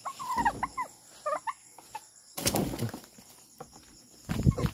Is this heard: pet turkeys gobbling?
yes